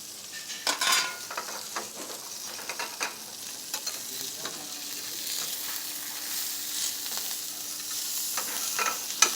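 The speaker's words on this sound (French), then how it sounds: "Maintenant c'est la cuisson du foie gras" Foie gras sears in a hot pan in a restaurant kitchen, giving a continuous bright sizzle with occasional clinks and scrapes of utensils, close and steady throughout, with no one talking.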